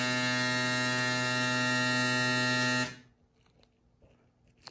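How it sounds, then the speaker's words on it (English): A fuel injector cleaning machine pulses ID 1700 fuel injectors with a loud, steady electric buzz that cuts off abruptly, leaving a faint hum and a few light clicks afterward. "All right, we're cleaning these injectors. These are my ID 1700 injectors, right?"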